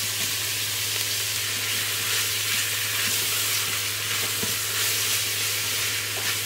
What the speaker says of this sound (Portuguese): E vou deixar aqui fritando até o tomate dar uma derretidinha, tá?